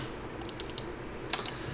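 Keys tapped on a computer keyboard while entering a command, a few quick clicks in two short bursts over steady room hiss, fairly faint and close.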